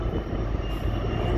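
Train engine passing through the Spiral Cut, a loud, close, continuous low rumble and roar that holds steady throughout.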